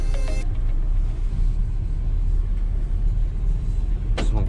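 A pickup truck at a truck wash is driven slowly into its parking spot, its engine giving a steady close rumble. Brief sharp tonal chirps mark the start and the end.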